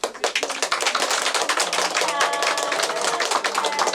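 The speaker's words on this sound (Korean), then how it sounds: "다 같이 큰 박수로 축하" A small group claps for a baby girl's first-birthday celebration in a hospital room, with dense, close, sharp handclaps continuing steadily throughout.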